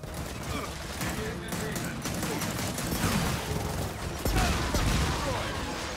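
Gunfire from the video game Gears of War 4 crackles in dense bursts against a busy battle backdrop, with louder heavy shots near the end.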